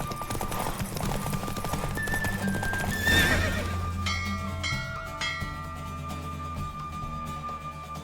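Horse galloping with hooves pounding and repeated neighs in The Witcher 3: Wild Hunt, the animal pushed at full speed, all set against loud game music throughout.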